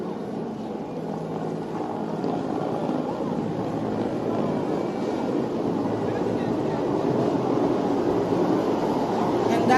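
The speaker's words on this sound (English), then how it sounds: "conducting aerial patrols overhead for this morning's parade is the Z-9 helicopter of the Ghana Air Force" A Ghana Air Force Z-9 helicopter patrols overhead during an independence day parade at Koforidua, its steady rotor and engine drone forming a continuous, moderately loud rumble that swells slightly toward the end.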